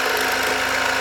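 A sewing machine runs a straight stitch on a fabric face mask, a continuous close mechanical whir with a steady hum and no pauses.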